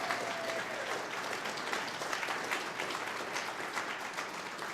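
Steady applause from an audience at an oath of office ceremony, a dense, even wash of clapping that holds for nearly five seconds.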